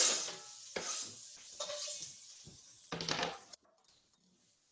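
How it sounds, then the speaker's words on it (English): Onions sizzle in hot oil in a pan in short bursts for a Thai curry, with stirring and scraping of a utensil, then the sound drops to a faint hiss. "You can hear it sizzling."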